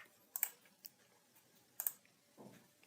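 Two crisp pairs of computer mouse clicks, close and quiet, separated by a pause, with a faint soft tap near the end and no talking.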